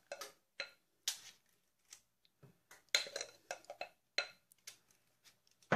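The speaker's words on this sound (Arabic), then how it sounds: "ثم اخذ ملعقة من المزيج واحطها بقوالب الكاب كيك زي كده" A spoon scoops tiramisu cupcake batter into cupcake molds, giving a series of light, close clinks and taps in an irregular rhythm with quiet pauses between.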